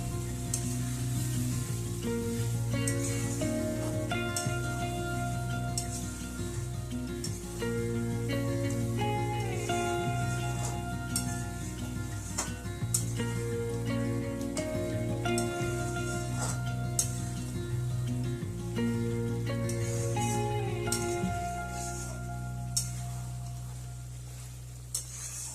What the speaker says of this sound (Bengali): ক্রিমটা দিয়ে গ্যাসের ফ্লেমটাকে লোতে রেখে আরো 2-3 মিনিট মতো রান্না করে নেব।